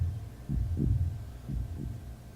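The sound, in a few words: loud heartbeats, from the video game The Last Door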